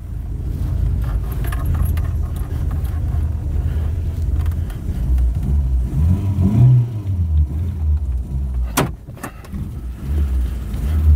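An 80s barn-find hot hatch with a Porsche system idles rough on only three cylinders, a steady, close, uneven engine drone with a brief mechanical clack near the end and no talking.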